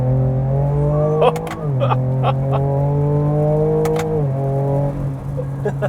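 A Ford Raptor pickup truck engine with Baja exhaust idles loudly and revs up in a few steady surges, holding a low droning pitch, with brief clicks and a voice faintly underneath.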